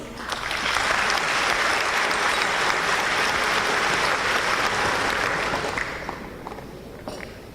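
Guests at a European business association dinner in Taipei give a full round of applause, a loud, dense roar of clapping that holds for about six seconds and then fades to scattered claps.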